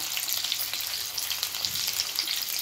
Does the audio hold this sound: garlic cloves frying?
yes